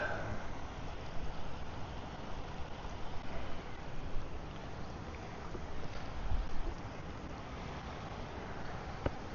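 Wind blowing outdoors during plein air painting by submerged rocks, a steady, broad rushing roar buffeting the microphone with occasional stronger gusts throughout.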